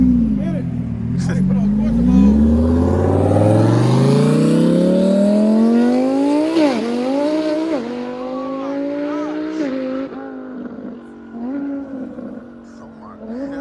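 A Ferrari supercar at a car show revs loudly, its engine note sweeping up in pitch over several seconds and then blipping repeatedly at high revs, with crowd voices around it.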